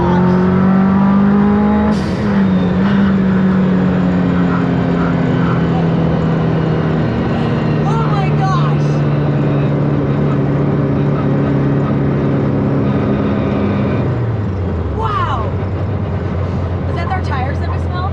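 A tuned 517whp VW Bug engine drops through a downshift at high speed on a road in Mexico, its loud drone falling in pitch with a sharp rev change near the end, under steady talk from the occupants.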